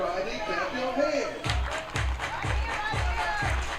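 Crowd at a baseball game clapping in a steady rhythm, about six claps in a row at a regular beat, loud and near, with murmuring crowd noise beneath.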